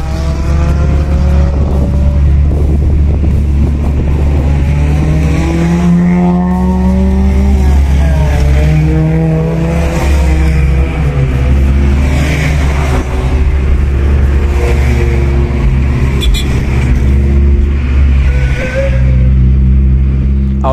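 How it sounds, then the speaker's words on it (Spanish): Tuned cars from a car club cruise roll past one after another, loud engines revving and droning with rising and falling pitch as each passes close by, under a steady rumble. "me orillé y los dejé pasar a todos para que pues todos desfilaran con sus carros"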